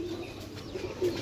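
Pigeons cooing softly in a bird seller's setting, a few low, rounded coos repeating over faint background noise, with no talk.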